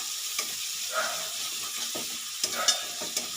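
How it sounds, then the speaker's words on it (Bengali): Jackfruit and shrimp frying in a pan are stirred, producing a steady close sizzle with scattered scraping and knocking of the utensil against the pan, without speech. "আর এটা আমি সুন্দর করে নেড়ে নেব"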